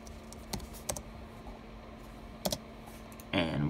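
Several sharp keyboard keystrokes spaced out across a quiet room while a command is typed, with a low electrical hum underneath and a louder clatter of rapid keys at the end.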